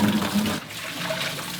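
Old water is dumped out of a bucket with a brief gushing splash, then a softer trickling wash as it drains away, heard alone.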